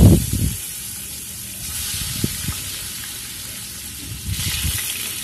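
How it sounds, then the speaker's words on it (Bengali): Rohu fish frying in a pan, a continuous soft hissing sizzle heard up close, broken by a few low knocks and clatters from the pan, with no voices. "এখন আমি মাছগুলো ভেজে নেব।"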